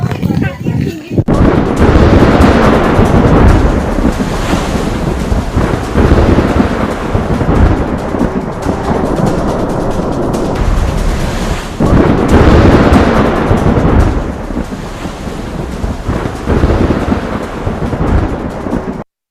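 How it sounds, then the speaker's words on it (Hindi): Cyclone Yaas storm in Simdega, Jharkhand, with heavy rain roaring continuously and rumbling thunder swelling in loud waves, under a news reporter's voice. "आप देखिए कैसे यहां असर दिख रहा है यास तूफान का।"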